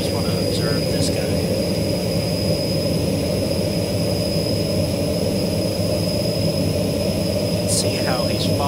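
A fighter plane flies in a Unity dog-fighting flight sim video game, giving a steady, loud jet-engine roar with low rumble that holds constant throughout, with a few faint electronic blips.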